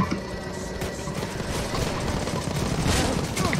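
Video-game shotgun fire from a bolt-action shotgun in a chaotic firefight: dense overlapping gunshots and crashes roll on continuously at close range, with voices faintly mixed in.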